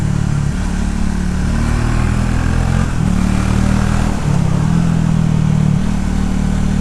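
A 2025 Triumph Speed T4 motorcycle engine and exhaust drone steadily while riding, a loud low-pitched rumble with slight shifts in pitch as the throttle changes, continuous for the whole stretch with no talking.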